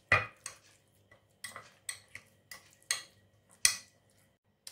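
A spoon stirring sardine stuffing in a bowl, with sunflower oil mixed in. Sharp clinks and scrapes of spoon against the bowl come in irregular bursts, close and clear, with quiet gaps between them.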